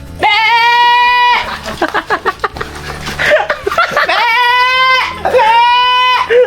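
Goats bleating nearby on a farm in Mindoro, with loud wavering calls at the start and the end and people talking and laughing in between.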